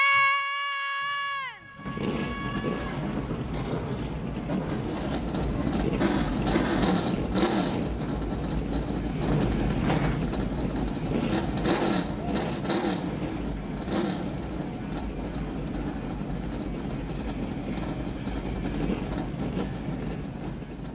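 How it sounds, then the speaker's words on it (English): Several stock car engines fire up together at Bowman Gray Stadium, a quarter-mile racing track, then rumble and rev in a loud, sustained, broadband roar that fills the whole stretch after a brief tone and silence at the start. "Engines are fired here at the Madhouse under ballpark 60 degree skies."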